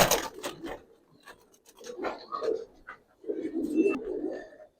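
Female Palla line gribaz flying pigeons in a loft, giving several close, low throaty coos in intermittent bursts, with faint rustling between calls.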